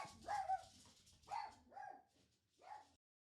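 Dogs bark in several separate outbursts outside a building with aging copper cladding, a few sharp barks and yelps spaced over about three seconds, faint and somewhat distant, then quiet.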